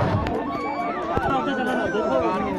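A large crowd of pilgrims at Amarnath makes a dense, bustling wash of overlapping chatter and footsteps, with many voices blending close by and no single speaker standing out.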